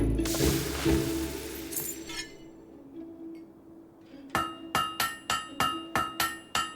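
Hammering a blade at a forge in Fable 3, with a run of about eight evenly spaced, ringing metallic strikes near the end, following a noisier stretch of clatter and a quieter pause.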